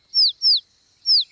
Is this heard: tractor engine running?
no